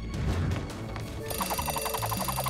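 A rapid, repeating electronic alarm clock ring starts partway through and rings steadily in the Poppy Playtime Chapter 3 video game, sitting over a low game background rumble.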